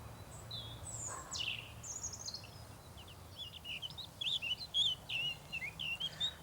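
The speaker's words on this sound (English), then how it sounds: "finches forming an orderly queue for the bird table" Finches and other small garden birds at a bird table give quiet chirps and short twittering calls, scattered at first and then denser near the end, fairly faint against a low background hum.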